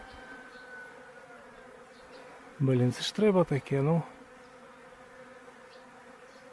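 A steady buzz of free-living bees hums faintly throughout, briefly covered by someone speaking a few words near the middle.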